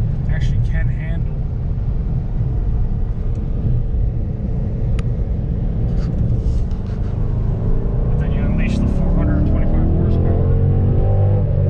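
A 2009 Dodge Challenger SRT8 with a 6.1 liter V8 rumbles with a low exhaust growl while accelerating on the road, a steady deep drone under someone talking inside the car.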